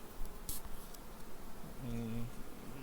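Carniolan honey bees buzz around a beehive, with one brief close droning pass standing out over a low, steady background hum.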